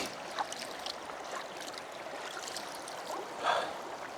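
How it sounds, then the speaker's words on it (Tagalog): Continuous rushing water from a strong, cold river current near Mount Robson, a steady broad wash of sound with small splashes and surges, nearby and fairly loud. "medyo malakas yung agos"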